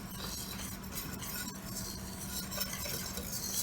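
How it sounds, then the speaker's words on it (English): A whisk stirs a dry seasoning mix with black pepper around a bowl for a copycat Popeyes chicken sandwich, a steady, soft, close scraping and rattling with faint clinks and no talk. "you take a whisk"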